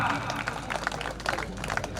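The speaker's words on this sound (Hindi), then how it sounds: "तालियां स्वागत कीजिए इनका।" An audience claps together at a Jat community talent-honouring ceremony in Mangliyawas, a steady wash of applause with a voice speaking over it.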